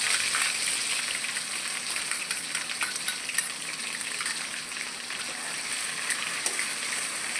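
Ground masala paste frying in oil in a kadhai with mustard seeds and curry leaves, a soft continuous sizzle with faint crackles, steady and moderately quiet.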